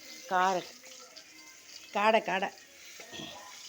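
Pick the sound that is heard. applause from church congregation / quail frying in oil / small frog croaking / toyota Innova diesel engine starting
quail frying in oil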